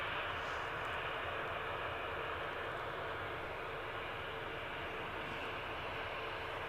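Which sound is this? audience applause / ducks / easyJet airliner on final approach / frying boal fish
easyJet airliner on final approach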